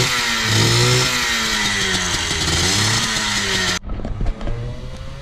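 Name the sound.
Volvo 740 with 351 engine revving while drifting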